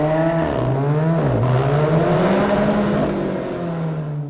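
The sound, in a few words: Alfa Romeo 4C Spider exhaust revving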